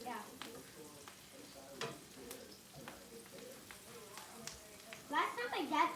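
Omelet frying in a pan, a soft, steady sizzle with scattered crackles and pops, faint and close, with children talking over it.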